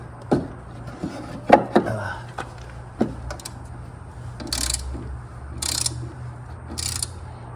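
A ratchet snugs the blade bolts on a Honda lawn mower, giving scattered sharp clicks and clacks spaced a second or so apart, with brief bursts of hissy rasping later, over a low steady hum.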